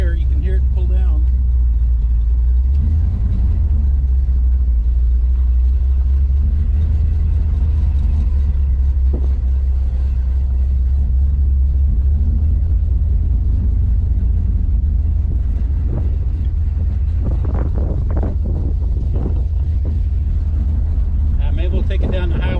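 An old Plymouth Belvedere's engine idles with a steady low rumble that dips as it is put in gear, while a person talks throughout.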